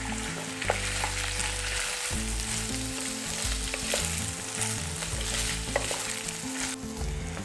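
Rice sizzles and fries in a pan with steady crackling, broken by the occasional scrape of stirring; no one speaks.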